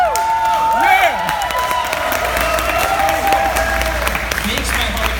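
A live audience at a BrickFair fan Q&A claps and cheers steadily throughout, with scattered whoops and excited shouts rising over the dense, continuous applause.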